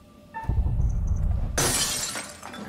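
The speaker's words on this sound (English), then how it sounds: "Putting a rock through a window at 10 paces?" In the video game Little Hope, a thrown rock smashes a glass window: a sudden loud, bright crash of breaking glass bursts out and rings on for about a second after a low rumble.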